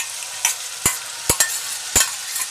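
Garam masala being stirred into a sizzling pan of vegetables for thukpa noodle soup: a steady hiss of frying broken by several sharp spoon scrapes against the pan, close and fairly loud, with no voices.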